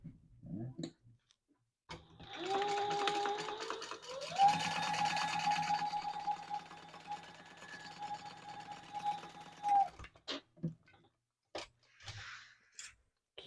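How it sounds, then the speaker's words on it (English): A sewing machine stitching the bottom edge of a crossbody bag, running in one steady, buzzing stretch of about eight seconds with a rising start, followed by a few soft handling clicks and knocks once it stops. "now we're going to just sew this bottom edge"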